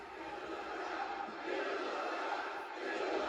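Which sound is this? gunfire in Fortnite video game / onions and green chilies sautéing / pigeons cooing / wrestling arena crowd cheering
wrestling arena crowd cheering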